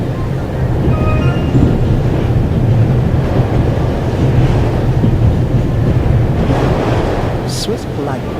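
Steady rumble of a moving train carriage in the video game The Raven: Legacy of a Master Thief, a loud continuous low roar with wind-like rushing throughout and a brief higher clatter near the end.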